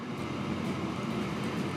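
A bread-carrying freight train in the Transport Fever video game rolls along with a steady low rumble and faint rhythmic wheel clatter, constant and even in volume, with no talking.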